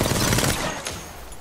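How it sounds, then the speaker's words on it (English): Automatic weapon fire in the shooter game Apex Legends rattles in a fast, loud stream up close, then trails off into a fading echo. "Shooting."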